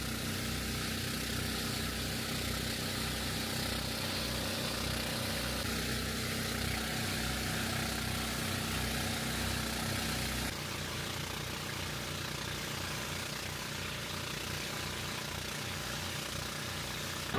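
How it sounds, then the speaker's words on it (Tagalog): A loud boat engine idles near the sandbar off Naked Island in Siargao, a constant throbbing drone with even pulsing, close and steady throughout with no speech. "Meron tayong panlagay sa tenga kasi maingay yung makina."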